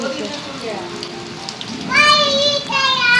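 Steady rain falls throughout, a broad hiss at moderate loudness, with a voice and speech-like tones rising over it in the second half.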